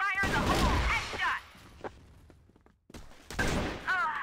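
Gunfire from the shooter game CrossFire comes in two dense, loud bursts, one at the start and one near the end, with a quieter stretch of scattered shots and game noise between them.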